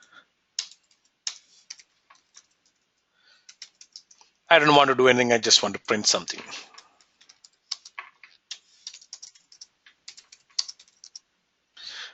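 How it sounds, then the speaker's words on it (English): Computer keyboard keys click in sparse, irregular bursts of taps with pauses between them, close and crisp; someone speaks briefly partway through while typing continues around his words. "My keyboard."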